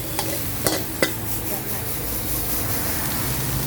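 Red ant eggs dry-roasted and stirred in a pan, with a steady crackling sizzle and a few sharp scrapes of the utensil early on, while a voice talks faintly over it.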